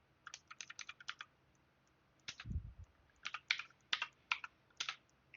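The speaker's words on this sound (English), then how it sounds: "And typing here works as well" Typing on a computer keyboard during PC BIOS overclocking, sharp clustered key clicks in quick bursts with short pauses, close and fairly quiet, one dull low thump in between, no talk.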